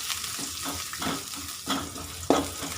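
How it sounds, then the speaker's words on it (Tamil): Onions sauté in a pan for savoury vermicelli, with a close, continuous sizzle broken by repeated bursts of stirring and scraping, ending in a sharper knock of the utensil against the pan. "இப்போ பார்த்திங்கன்னா நம்ம வெங்காயத்தை போட்டு வதக்கிட்டுருக்கோங்க"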